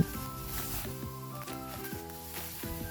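Eggplant roasting in an electric pan gives a faint, steady sizzle under sustained tonal sounds, with no voices.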